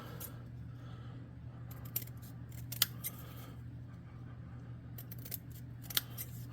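Scissors snip off excess from glued craft pieces for a miniature hovel, a few sharp, faint cuts scattered over a quiet room hum.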